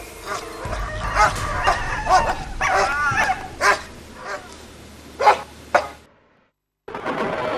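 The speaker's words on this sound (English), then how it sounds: "The dog's defiant." Dog at an Arctic weather station on Hudson Bay barking and yipping at a polar bear, a string of sharp, close barks and whimpers in irregular bursts, ending briefly in silence before rumbling background noise resumes.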